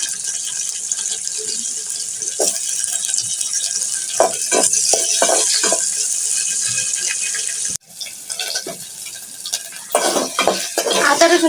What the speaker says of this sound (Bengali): আমি আলুগুলো একটু ভেজে নিচ্ছি।